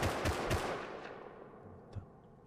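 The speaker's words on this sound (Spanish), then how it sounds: "Pega dos tiros más" Bursts of gunfire in the survival game Rust, a quick volley of loud shots in the first half second followed by a fading tail and one fainter later shot, with no voices.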